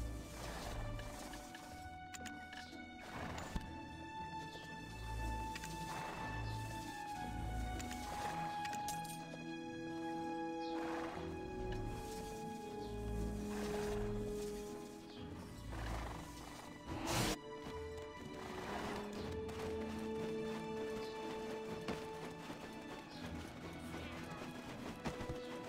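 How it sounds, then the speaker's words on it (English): A horse galloping across an open field in the Black Desert Online game, with rapid rhythmic hoofbeats and occasional whinnies under steady game music, lasting throughout. "Try sprinting across an open field on the back of a horse."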